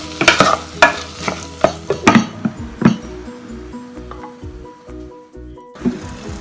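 Chopped tomatoes with chili powder cook in a pan for a Kerala milkfish curry, with soft sizzling under a run of clinks and scrapes from stirring that thin out into a quieter simmer.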